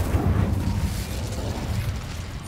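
A fire spell cast in Hogwarts Legacy: a low, rumbling whoosh of flame that holds steady and loud for the whole moment, with no voices.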